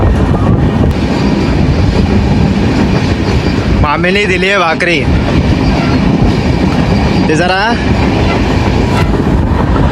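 Train rumbling along the Konkan route to Mumbai during the monsoon, a loud, steady rattle and roar filling the whole stretch while people talk over it inside the carriage.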